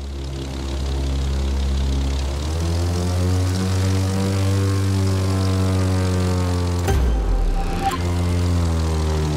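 Propeller airplane engine in The Crew 2 racing game, a loud steady drone with a rising pitch shift around the second second, continuous and alone throughout, with a brief noisy burst near the end.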